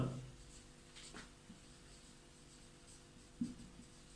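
Marker or chalk writing out an answer on a board during an English grammar lesson, faint scratchy strokes in short bursts across a quiet room, with a soft knock near the end.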